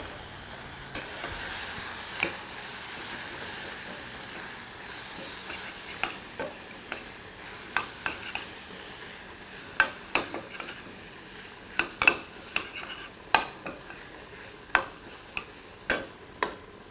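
Tomatoes and turmeric fry on lower heat in a pan for pumpkin and coconut kitchari, a steady sizzle broken by frequent sharp taps and scrapes of stirring that grow more regular toward the end.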